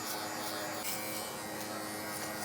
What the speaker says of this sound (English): This clipper is really good for debulking